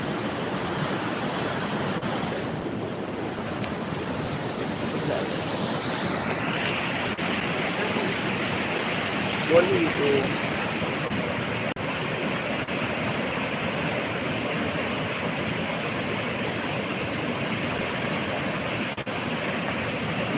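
Rushing water pours over the Puluj weir, roaring steadily and loudly without pause, a dense broad wash of flowing current filling the whole stretch.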